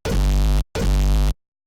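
Two identical hardcore kick drum hits from the Fragment Audio DOOMSDAY Serum sound pack, each a loud, heavily distorted boom with a long tonal tail, played back to back with a short gap and no talk.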